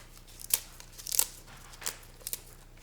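Kale leaves are torn into small pieces by hand, making four or five crisp, close ripping and crinkling tears spaced irregularly over a quiet background.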